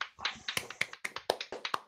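A run of sharp hand claps, about a dozen in under two seconds, close and fairly quiet, with no talking over them.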